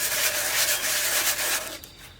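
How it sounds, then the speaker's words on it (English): Light hand sanding with 150-grit sandpaper scuffs a flat surface, producing a quick series of soft, close rubbing strokes for about two seconds before it stops. "That's actually 150 sandpaper."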